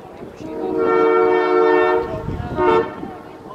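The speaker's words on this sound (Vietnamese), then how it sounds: "Mọi người có nghe thấy tiếng xe lửa không? Đó, xe lửa đang chạy ngang nè" A train rolls past in a mountain town in Colorado, its horn sounding a long sustained blast with a second short toot near the end, loud and close over a rumble of rail noise.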